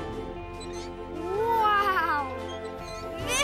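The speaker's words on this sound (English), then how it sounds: "Mrs. Melvin's cat got stuck in the tree again." A cartoon cat stuck in a tree gives a long, rising and falling meow close by, followed by a short exclaimed word and the start of another cry.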